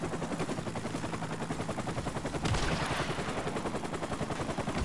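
Rapid automatic gunfire in Modern Warfare Remastered online play, a dense continuous stream of loud shots with a heavier burst midway, no voices.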